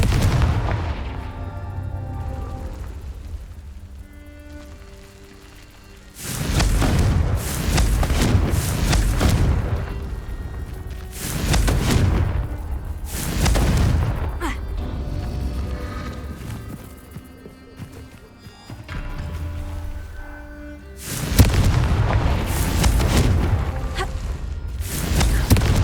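Confringo spell explosions thunder through a Hogwarts Legacy fight in repeated heavy booming bursts, each one loud and broad. Clattering combat noise and rumbling fill the gaps between the blasts.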